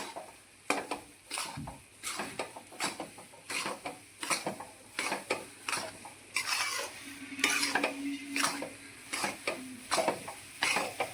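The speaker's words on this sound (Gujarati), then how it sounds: "અને આવી રીતે આપણે લોટને શેકી લઈશું જ્યાં સુધી સુગંધ ન આવે ત્યાં સુધી" Flour being roasted in a pan for gundar laddu, with a spoon scraping and clinking against the pan in irregular strokes and a faint sizzle beneath, close and moderately loud with no talk.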